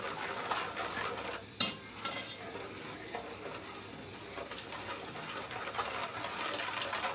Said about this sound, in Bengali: অনবরত নাড়তে থাকবে চিনিটা গলে যাওয়া পর্যন্ত